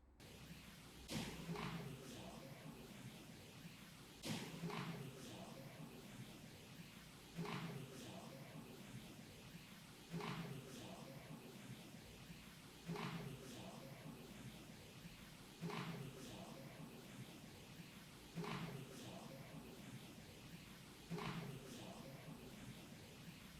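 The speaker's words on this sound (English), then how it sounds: "If that's part of the echo of that door, that's a hell of an echo." Door at the old Nevada State Prison, given heavy added reverb, sounds as a series of faint, evenly spaced thuds. Each thud rings out in a long, washy echo tail, and the hits repeat every few seconds over quiet room tone.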